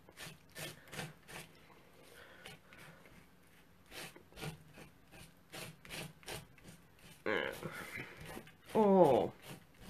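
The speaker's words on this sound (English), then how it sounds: "I'll just scrape it on the back and then across." Embossing paste is scraped across a stencil on a card, making repeated short rasping strokes in a steady rhythm, then a longer, louder scrape near the end; a voice speaks softly in between.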